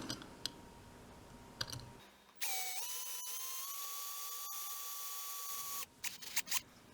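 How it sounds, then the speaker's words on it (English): A small power drill with a 1/16 inch bit boring pilot holes in a Corgi Jaguar Mk X model car, whining steadily at close range for several seconds with a slight pitch rise, framed by clicks and handling noises. "I've got the holes all drilled, and I had to use a 1/16 inch drill for a pilot hole"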